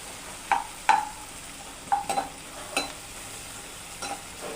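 Onions and masala fry in a pan for samba rava kichadi, a soft sizzle under a handful of scraping spoon strokes spaced irregularly, quiet and close with no talking.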